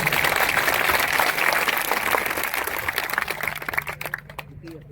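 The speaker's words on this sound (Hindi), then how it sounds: "ताली बजाओ, जोर बजाओ भाई" A crowd at a Meghwal community convention claps in a dense, loud burst that gradually tapers off and breaks into scattered claps near the end.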